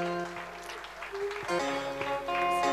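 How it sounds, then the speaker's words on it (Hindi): Applause from a concert audience during a tribute show, cheering an octopad and percussion player, a steady wash of clapping mixed with sustained instrumental music throughout. "जोरदार तालियां हो जाए।"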